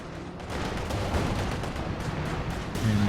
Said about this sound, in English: And an incendiary artillery going to force away these team weapons.